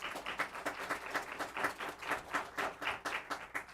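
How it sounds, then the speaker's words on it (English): A small group claps at a city council meeting honoring teachers, with a quick, rhythmic pattern of individual hand claps that stays fairly faint and close, lasting a few seconds. "Please give them a round of applause."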